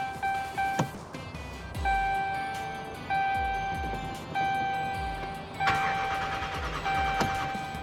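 RAM truck engine cranking over repeatedly, a series of regular starter pulses about once a second, with a steady tonal chime sounding alongside and no clear catch.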